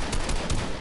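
Rapid automatic AK rifle fire in a multiplayer shooter game, a tight string of shots in under a second, loud and close with no talk over it.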